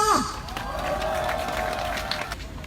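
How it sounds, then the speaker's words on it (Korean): A street rally crowd gives a steady wash of applause and cheering to welcome a speaker, dense and sustained throughout, with a brief voice at the start. "힘찬 박수와 함성으로 모시겠습니다"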